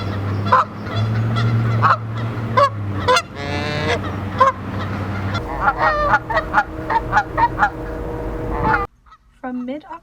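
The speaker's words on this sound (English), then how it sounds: "students and staff attempt to share the campus with hundreds of geese" Geese on the Boise State University campus honk loudly and repeatedly, a flock calling in overlapping bursts close by, ending in a few isolated honks after a sudden drop in background noise.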